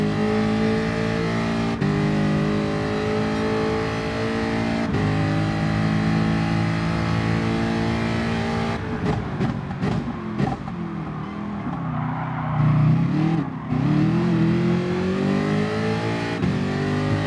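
Race cars in a sim racing endurance event, one engine droning steadily at high revs nearby, then a burst of gear shifts and revving as cars run side by side leaving the pits.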